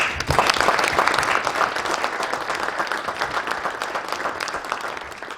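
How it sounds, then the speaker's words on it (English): Sustained audience applause at a keynote award ceremony, a dense wash of many hands clapping steadily throughout, loud and close, with no talking over it. "Give yourself a round of applause."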